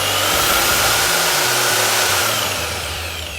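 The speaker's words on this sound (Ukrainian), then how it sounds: "Давайте, поки я тут кручу міксер в руках, заразом покажу вам рукоятки." A handheld electric cement mixer runs continuously at high speed, giving a loud, steady motor whine with a rough broadband roar that eases slightly toward the end.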